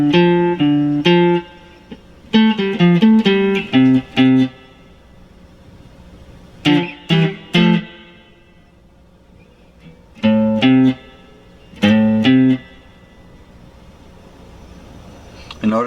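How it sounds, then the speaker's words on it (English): A second guitar part for the ending of a song: quick clusters of picked notes bouncing between two strings, played in short bursts separated by quiet gaps, clear and close. "we're going to play a second guitar part that'll sound like this."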